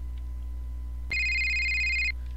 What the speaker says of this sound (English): My phone wasn't supposed to ring.